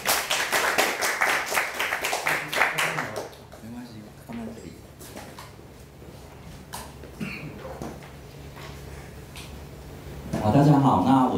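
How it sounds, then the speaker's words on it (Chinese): A short round of audience clapping at a small talk event, scattered and fairly loud, follows a spoken introduction. It then fades into a quiet room before another voice begins. "给他一个掌声鼓励"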